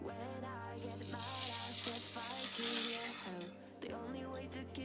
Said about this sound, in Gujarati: અને લીમડાના પાન નાખીશું અને લાલ સૂકું મરચું નાખીશું અને સરસ તતળી જાય